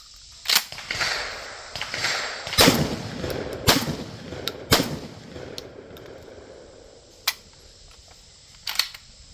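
A Mac 1014 shotgun fires a run of loud, sharp blasts at uneven intervals, the reports trailing off into quieter mechanical clicks toward the end.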